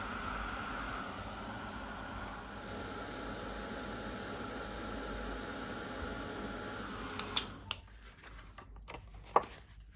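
An embossing heat tool warms embossing powder on a jingle bauble, giving a steady whooshing fan hum with a low drone that holds for most of the time, then cuts out, leaving a few small clicks and handling taps.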